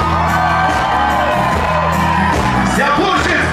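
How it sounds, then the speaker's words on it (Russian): An outdoor crowd in a square at a Belarus Independence Day concert, cheering and whooping loudly and continuously over music, dense and close, with shouts and voices mixed in. "Но эта песня заслуживает отдельных аплодисментов."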